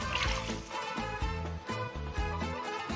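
Water pours steadily into a cooking pot while suji halwa is being made, a continuous close trickle with faint background sounds.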